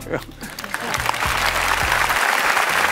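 Dense, building crowd applause swells from a lighter start into a full, sustained ovation, with low rumbling and a voice audible beneath the clapping.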